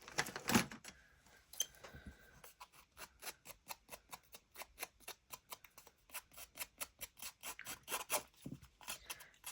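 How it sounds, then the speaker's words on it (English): Small scissors snip through paper in a crafting session, a quick rhythmic series of crisp, close cuts, faint and alone with no talk over them. "Where's my little scissors gone?"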